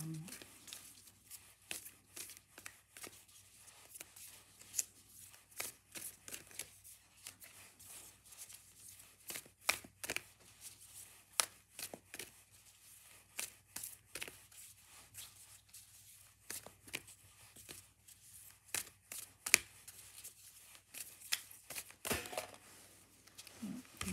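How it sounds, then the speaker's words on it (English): Oracle cards are shuffled by hand in a quiet room, a long run of soft, uneven riffles, slaps and crinkly flicks, faint and close, with scattered sharper snaps and no talking. "I really am the worst shuffler."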